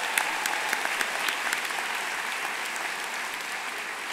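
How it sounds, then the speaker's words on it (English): Steady applause fills a university commencement hall as the audience honors the beach volleyball team, dense even clapping from many hands throughout. "Will you please join me in another round of applause for the beach volleyball team?"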